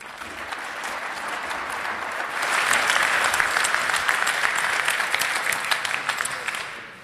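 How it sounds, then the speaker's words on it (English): Applause from a conference audience welcoming a guest speaker at a talk on hacking electoral law, starting modestly, then swelling into fuller, denser clapping before tapering off at the end. "give a warm round of applause for our guest"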